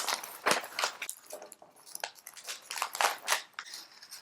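Paper is folded and crinkled around a bouquet of dried flowers, giving close, faint, irregular crackles and rustles in quick bursts, with no talk.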